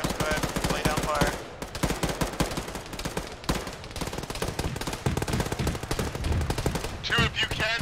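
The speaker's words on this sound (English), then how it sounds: "2 AR, go ahead, lay down fire." Automatic rifle fire in the ArmA military shooter game, rapid sustained bursts of machine-gun shots at close range, nearly continuous across the clip with brief pauses and faint radio chatter near the end.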